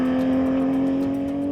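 A Porsche GT3 RS on the Ascari race circuit gives a steady, loud engine note that holds an even pitch throughout, with no breaks or voices.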